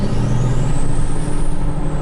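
Big dually pickup truck driving close up with a loud low engine drone and a brief hissing brake-like release, no talking.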